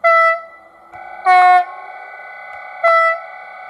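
A toy-like electronic horn from an H0 model train sound decoder sounds three short, bright blasts over a steady hum, loud and close.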